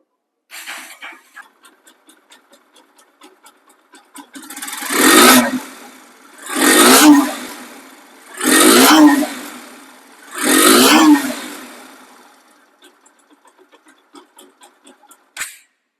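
A 2018 Bajaj Pulsar AS motorcycle engine revs four times in even bursts, each swelling and fading, with quieter idling ticks before and after; no talk.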